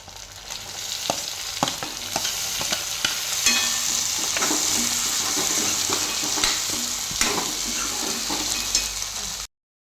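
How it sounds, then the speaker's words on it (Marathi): Tomatoes added to fried onion and green chili sizzle steadily in a pan while a spoon stirs and scrapes in frequent clicks, close and continuous, with no talking. "त्यामध्ये मी आता टमाटर घालत आहे"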